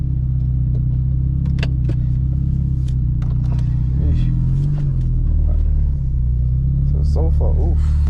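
A 9th-generation Honda Civic Si with a full 3-inch exhaust rumbles steadily while driving, a loud, continuous low drone from inside the cabin with shifting engine pitch and brief voices over it.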